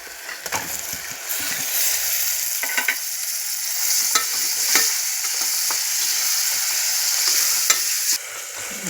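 Tomatoes frying and being stirred in a pan for a pressure cooker mutton curry, a steady close sizzle with scraping stir strokes throughout, no voices.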